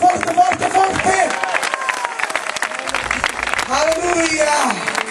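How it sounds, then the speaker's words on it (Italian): A congregation at an evangelistic campaign meeting claps in praise, a loud, dense wash of applause and cheering mixed with crowd voices and a speaker's amplified talk over it throughout. "facciamolo in modo che tutta la chiusa possa sentire il nostro applauso di lode per Gesù"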